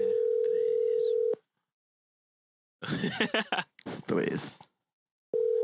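Phone call ringback tone, a loud steady electronic tone sounding in two long bursts with a silent gap between them, and people talking in the gap while waiting for someone to pick up.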